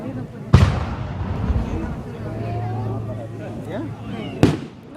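Fireworks explode in two sharp, loud bangs several seconds apart, with a crackling, rumbling outdoor background and a steady hum between them.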